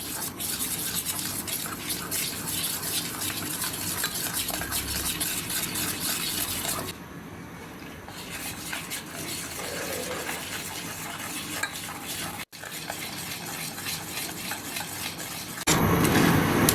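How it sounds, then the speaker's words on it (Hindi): Milk added bit by bit to a chocolate coffee mocha cake mixture in a bowl, stirred steadily with close, continuous scraping and swishing, briefly quieter midway and louder again at the end. "मैंने आधा कप दूध लिया है, वो थोड़ा थोड़ा करके इसमें डालते जाएंगे और इसको मिक्स करते जाएंगे"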